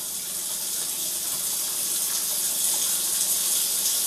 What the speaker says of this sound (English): the last thing that we need to add to this is 8 cups of really hot water